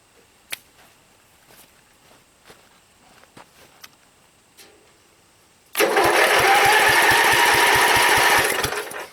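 An old small engine that has just had its carburetor cleaned starts on half throttle. Faint clicks and handling sounds come first, then it catches abruptly and runs loud with a rapid chugging pulse for about three seconds.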